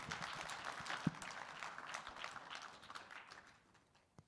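Scattered audience applause at a hackathon finals event, fairly faint and distant, fading out toward the end.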